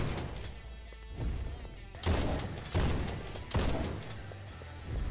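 Heavy booming shotgun blasts from the video game Action Commando, several loud separate shots over a rumbling game backdrop, spaced about a second apart.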